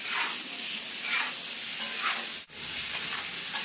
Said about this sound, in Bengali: এবার যে কেটে রাখা আম এগুলো দিয়ে দেবো, দিয়ে খুব সুন্দর করে নেড়ে নেব